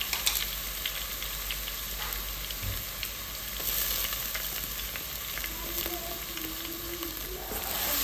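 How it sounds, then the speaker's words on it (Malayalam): Crushed ginger, garlic and green chilli fry with curry leaves in hot oil for a Kerala fish-head curry, giving a steady, close sizzle with faint crackles and occasional stirring clicks, no voices. "ഇനി ഇത് നല്ലോണം ഒന്ന് മൂത്ത് വരട്ടെ"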